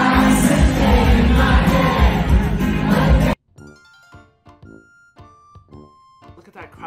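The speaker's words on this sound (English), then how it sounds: "that crowd having a great time" A loud stadium crowd in a video game roars and cheers for about three seconds, then cuts abruptly to quiet, sparse tones.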